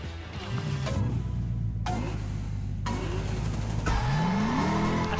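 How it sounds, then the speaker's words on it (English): An engine revving and a car drifting in Lego 2K Drive, with a steady mid-loud motor drone, pitch sweeps as it shifts and accelerates, and brief squealing tire slides. "I forgot how to drift."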